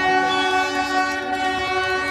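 Train pulling into a station on a children's railway in Russia, its steady rumble and rolling clatter carrying on loud and close for the whole stretch, with a sustained horn-like tone over it.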